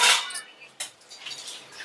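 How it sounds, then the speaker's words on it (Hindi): Dishes, pots and utensils being washed indoors by hand while rain falls outside, with clinking metal and splashing in short, close bursts and no talk. "तो इधर धोने लगे हैं बर्तन,"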